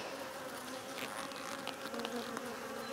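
Honey bees buzz in a steady, dense drone from an opened split hive being inspected for a queen, close and continuous with no talking.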